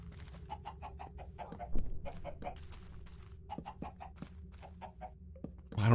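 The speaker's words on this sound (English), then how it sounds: "I don't know why there's so many chickens in here." Chickens cluck in the Minecraft FTB OceanBlock game, a busy run of short overlapping clucks and squawks repeating throughout at moderate volume, with a few louder thumps mixed in.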